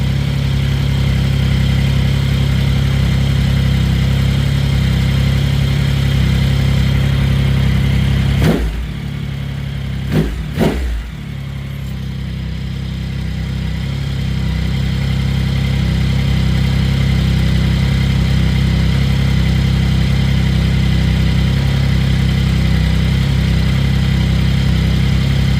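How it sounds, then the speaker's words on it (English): A 2025 Yamaha R9 motorcycle engine idles loudly and steadily up close during a throttle body sync, with a couple of brief blips around the middle before it settles back to a constant idle. "just give it a little bit of a rev. And then wait for it to settle back down."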